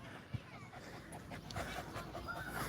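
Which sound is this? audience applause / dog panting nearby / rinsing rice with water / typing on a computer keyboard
dog panting nearby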